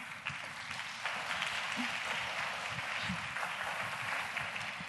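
An audience in an amphitheatre applauds at a conference event, a steady wash of many hands clapping at moderate distance, sustained and even throughout.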